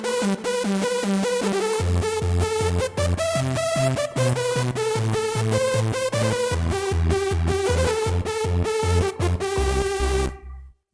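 A synthesizer patch made in Sytrus plays a busy, bright sequence of notes with a wavering vibrato and a deep pulsing bass, loud and continuous until it stops abruptly near the end.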